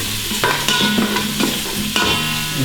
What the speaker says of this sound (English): So just let this saute.